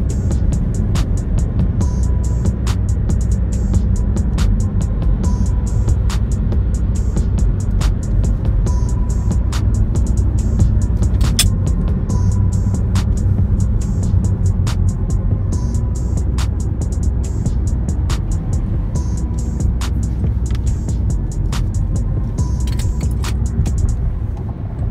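A car cruising along a highway, its steady engine drone and road rumble continuous and close for the whole stretch, with faint ticks above the low roar.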